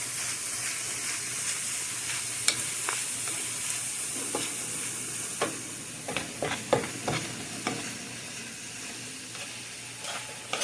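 Spices being stirred into mutton keema on a dry tawa, a steady soft scraping hiss with a few sharper scrapes of the spoon against the pan, close and alone.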